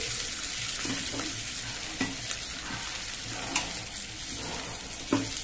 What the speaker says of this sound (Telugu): ఇలా రెడ్గా వేయించుకోండి.